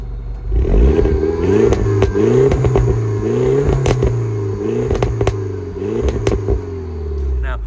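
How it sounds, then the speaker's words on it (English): A Mini Cooper S engine revs repeatedly through its exhaust with a throaty gurgle, rising and falling in several close, loud blips over a steady idle. "I'm just going to set the camera there and give it a bit of a rev so you can hear it."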